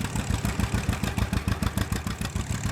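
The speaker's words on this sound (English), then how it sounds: "Oh, somebody left a tractor running." A tractor engine idles in the Farming Simulator 22 video game, giving a steady, close, throbbing rumble with a fast regular pulse and no talk over it.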